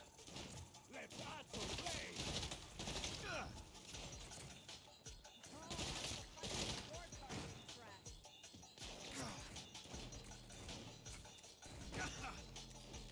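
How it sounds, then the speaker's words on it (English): Assault rifle fire rattles in bursts in Saints Row amid crashing impacts, fairly faint and busy with game noise, while a voice talks over it. "switch back to the assault rifle"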